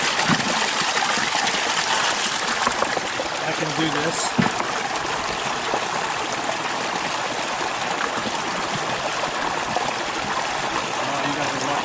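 Moving water used for watering plants on a farm field trip, a steady rushing flow like a stream or gushing outlet running throughout, with a person talking over it.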